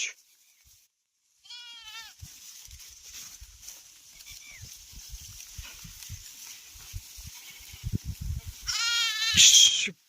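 Sheep in a village field bleat twice, once briefly early on and again loudly near the end, over quiet rustling and soft thuds nearby.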